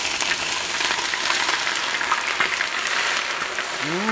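Mustard seeds, ginger, dried red chillies and curry leaves frying in hot oil in a pan, a loud, dense, steady sizzle close up with no talk.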